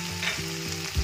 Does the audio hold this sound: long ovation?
no